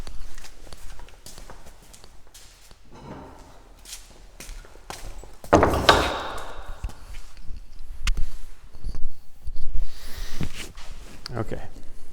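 A small hammer taps a wooden end table drawer joint, a series of short sharp knocks at uneven intervals, close by, with a louder cluster midway and speech at times.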